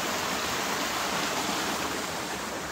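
A flowing stream rushes steadily nearby, its broad, even wash of water holding at a constant level throughout with no voices.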